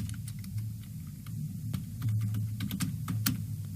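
Brisk typing on a computer keyboard, a run of sharp, close key clicks over a steady low background hum.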